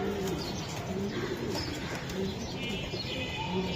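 Several white racing pigeons coo softly and repeatedly in a busy loft, with chirps and rustling from other birds filling the background.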